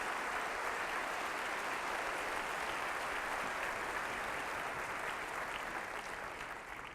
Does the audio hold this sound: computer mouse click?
no